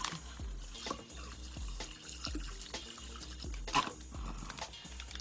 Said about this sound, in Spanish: lo voy a llenar de ácido clorhídrico o agua fuerte